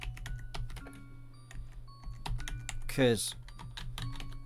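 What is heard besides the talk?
computer keyboard keys being pressed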